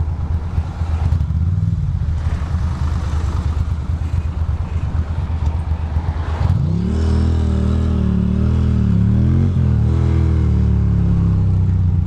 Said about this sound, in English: And there is some serious traffic here.